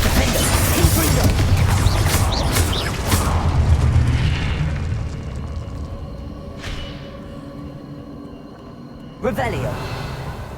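Spell blasts from the Confringo fireball in the Hogwarts Legacy video game: loud booming bursts early on, a sharp pop around the middle and another blast near the end over a rumbling game soundscape.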